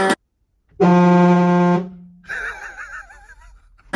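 A Hornblasters fire truck horn mounted on a 2022 Ram 3500 dually blasts once, loud and close, a deep brassy tone lasting about a second, followed by faint voices and laughter.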